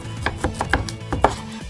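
A knife chops cabbage into small pieces on a cutting board, a quick series of crisp, close-up thuds at an uneven pace.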